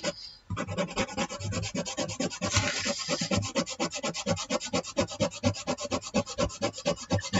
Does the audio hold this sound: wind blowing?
no